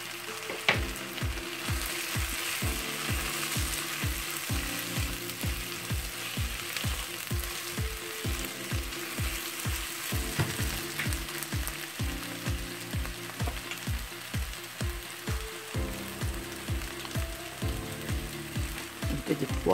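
Two cloves of minced garlic fry in a pan with a steady sizzle, overlaid by a loud, regular ratcheting mechanical grind that repeats throughout.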